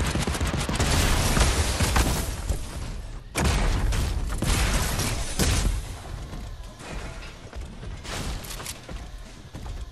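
Dense video-game gunfire, rapid bursts and booming shots layered into a continuous loud barrage with a few sharp spikes, no talk heard.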